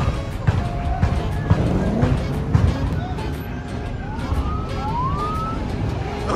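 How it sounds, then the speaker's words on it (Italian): Police patrol car sirens wailing and rising as many units arrive at a large illegal street gathering in Las Vegas, several overlapping sweeps heard over a continuous crowd and traffic rumble. "stanno arrivando un'infinità di pattuglie della polizia"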